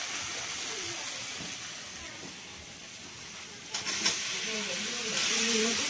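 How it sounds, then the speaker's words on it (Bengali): Spices sizzling in a hot wok with garlic paste, chopped onion and chilli nearby for a chicken curry, a steady close hiss and crackle that swells louder near the end. "কড়াইতে মশলা ভাজা হচ্ছে।"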